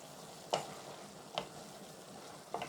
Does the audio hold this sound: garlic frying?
yes